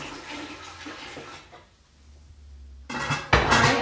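Four cups of water are poured into a pot with vinegar to prepare turmeric fabric dye, a loud rushing splash that eases off and then surges again with metallic clatter from the pot. No one speaks.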